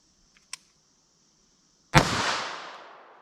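A single loud, close .380 ACP pistol shot fired at denim over MDF cracks sharply after a few faint clicks, then its echo rings and fades slowly.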